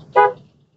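A single short car horn toot, loud and close, from inside a car while overtaking before a right turn, over a low engine rumble that fades out afterward.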